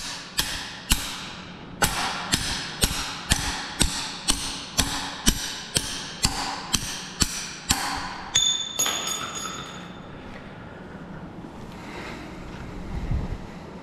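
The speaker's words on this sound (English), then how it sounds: "So I'm gonna try to hold this down, hit it up, and see if we can get this thing to pop." A stuck valve is being hammered out of a rusty, corroded Packard 327 engine head. About fifteen sharp, evenly spaced metallic blows ring out close and loud, followed by a ringing rattle as the valve pops free, then quieter handling.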